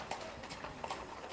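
Horse hooves clopping on pavement during a cavalgada horseback parade in Virginópolis, several quick irregular hoof strikes over a dense background of crowd and street noise.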